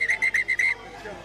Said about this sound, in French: Monsieur l'arbitre qui a sifflé